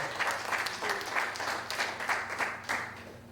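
An audience applauds a woman introduced by name at a Jacksonville, Florida talk in 2019: dense, steady clapping from a crowd, fairly loud and continuous throughout, with no speech over it.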